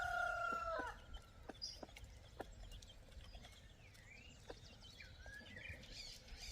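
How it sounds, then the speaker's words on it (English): A homestead rooster crows once at the start, a loud close cock-a-doodle-doo, followed by quieter clucks and chirps from other fowl against a faint outdoor background. "I so want to get rid of all my roosters."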